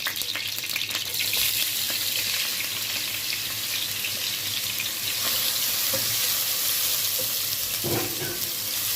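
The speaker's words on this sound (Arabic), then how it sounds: "والبصلتين هما بيتشوحوا" Two onions sautéing in a pan, a steady close sizzle and crackle of frying throughout, with faint occasional stirring clinks.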